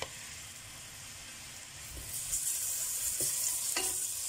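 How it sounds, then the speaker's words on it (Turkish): Chopped onion sautés in hot oil while being stirred, a soft steady sizzle that swells partway through, with a few brief scrapes of a utensil against the pan. "Ve sotelemeye başlıyoruz."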